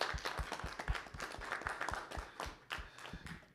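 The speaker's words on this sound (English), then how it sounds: "Can we give a round of applause to all our panelists and the participants" An audience at a conference workshop panel in Kyoto claps steadily for the panelists, dense overlapping applause filling the room at a consistent level throughout.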